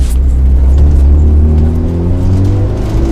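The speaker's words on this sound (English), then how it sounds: "So ease it through the gears for me." A Mitsubishi Evo rally car pulls away with a loud, close engine rumble that rises steadily as it works up through the gears.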